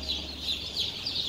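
Newly hatched chicks peep inside an egg incubator, a continuous high-pitched chorus of rhythmic, overlapping calls over a steady low machine hum, with no talking.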